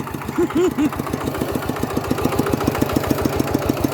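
A Kubota single-cylinder diesel engine on a walking tractor runs with a loud, steady, rapid thumping chug, heard close up with a brief voice-like sound early on.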